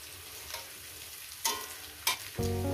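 Mixed vegetables frying with turmeric in a pan, for a vegetable posto: a low steady sizzle broken by several sharp spatula scrapes and knocks, then a louder burst of frying near the end.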